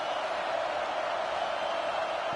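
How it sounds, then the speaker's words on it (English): Roaring football stadium crowd at FSU vs Clemson, a steady dense wall of cheering and noise rising behind the defense on a big third down, loud and continuous with no clear voices. "Big 3rd down as the crowd gets behind this defense."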